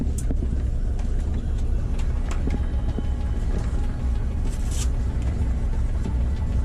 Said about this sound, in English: Lots of buses.